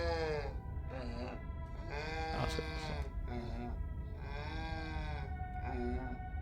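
A goat-like animal in the horror game Scarlet Hollow bleats repeatedly and loudly, drawn-out wavering calls coming in steady succession over a low rumbling background.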